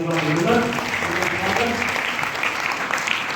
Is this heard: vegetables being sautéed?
no